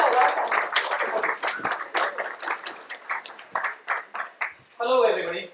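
An audience at a tech talk on Intel RealSense claps to welcome a speaker, a fairly close, uneven patter of hands that thins into separate claps before a voice starts speaking at the end.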